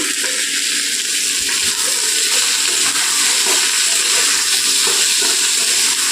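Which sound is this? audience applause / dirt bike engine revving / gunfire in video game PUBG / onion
onion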